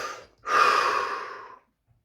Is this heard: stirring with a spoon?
no